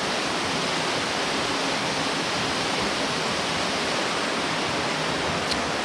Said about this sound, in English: And there's a river in southern West Virginia. It's actually called the New River.